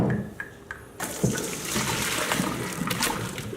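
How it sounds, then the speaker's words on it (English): Angel hair pasta water being poured off into a drain, a steady broadband rush of liquid that swells after a brief quieter start and keeps splashing and trickling at close range without talk. "Alright, so we're going to drain the pasta from the water."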